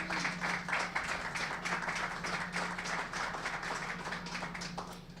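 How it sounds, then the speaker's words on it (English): Audience at a hockey hall of fame ceremony giving a steady round of applause, dense clapping from a crowd that holds, then tapers slightly toward the end, with a faint low hum underneath. "Nice round of applause for Patty DeRozier."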